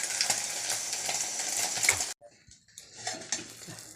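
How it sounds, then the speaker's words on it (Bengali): An egg frying in a pan, a bright continuous sizzle with utensil scrapes that suddenly cuts off, then resumes more faintly. "ডিমটা ভেজে নিই।"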